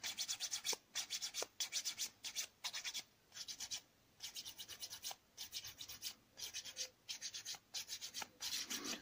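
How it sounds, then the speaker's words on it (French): Hand file rasping a small piece of expanded PVC foam board, a steady series of quick back-and-forth strokes with short pauses between bursts, close and fairly quiet, no talking. "Petit coup de lime."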